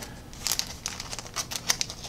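Plastic wrapping on a boxed set of Black Seas third rate ship miniatures crinkles and rustles close by in brief irregular bursts.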